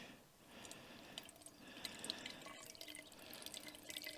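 Water trickles and drips through a small filter hydration system at a wild camp in the Scottish wilderness, a faint, close, irregular patter of droplets over quiet outdoor background.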